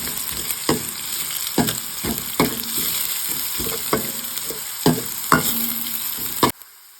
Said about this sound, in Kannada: ಈಗ ಈರುಳ್ಳಿ ಪಾಡಿಯ ಚೂರು ಫ್ರೈ ಮಾಡ್ತೇವೆ